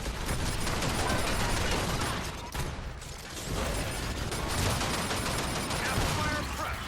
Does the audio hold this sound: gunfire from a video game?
yes